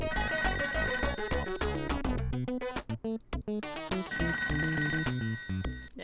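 Telephone ringing in the Toejam & Earl video game, a bright electronic ring that repeats over busy, dense game music throughout, with a brief break in the middle.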